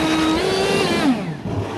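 A Ryobi 40V HP brushless leaf blower from the Whisper Series whirs with a steady, close motor whine that dips in pitch and then eases off near the end.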